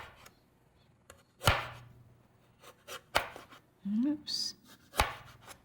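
A knife slicing fresh ginger with the peel left on, a few sharp separate cuts against a board spaced over several seconds, close, with brief talk between the cuts.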